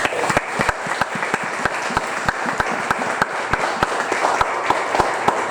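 Church congregation applauding loudly, a crowd's clapping with sharp, evenly spaced rhythmic claps standing out over a steady wash of applause, close and energetic.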